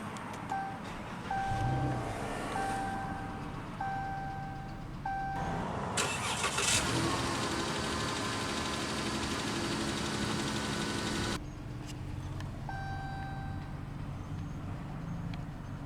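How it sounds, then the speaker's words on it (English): A 2015 Chrysler 200C AWD engine cranks and catches with a loud surge, settles into a steady idle for several seconds, then drops to a quieter hum. "let's go ahead and start the engine"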